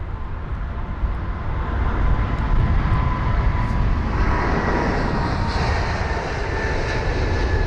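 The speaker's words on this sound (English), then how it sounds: "There's the United 777 on the move as well." A United Airlines Boeing 777-200ER at London Heathrow gives a steady, loud jet-engine roar as it moves along, a broad continuous rumble with a faint whine on top and no voices.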